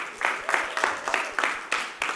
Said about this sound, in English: I think quick round of applause for Rev.